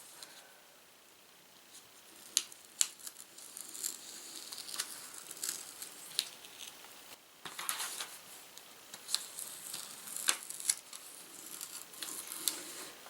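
Scissors cut around a circle traced on material for a DIY makeup palette, a quiet run of snips and rustles, the cuts coming in uneven bursts with short pauses between them.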